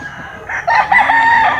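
A fighting cock, a Boston Lemon gamecock, lets out one loud, close crow, a rising then sustained call lasting about a second with no talk over it.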